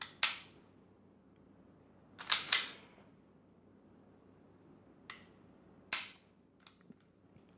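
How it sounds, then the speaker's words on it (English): Cocking a KJW KP-01 airsoft pistol, a Sig Sauer P226 replica: several sharp close metallic clacks and clicks, a clustered pair early then scattered single snaps, with quiet gaps between. "You can cock it."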